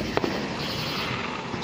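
Fireworks explode and crackle in a dense, steady barrage, loud and continuous with sharp pops standing out early.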